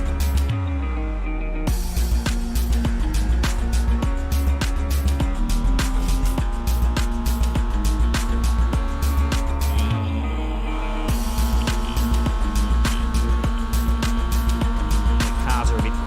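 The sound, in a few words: car engines in the iRacing video game, quiet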